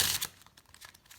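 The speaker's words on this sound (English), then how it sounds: "I'll give the deck a couple of shuffles" A deck of playing cards being shuffled gives a brief, crisp riffling burst that quickly fades into faint papery ticks.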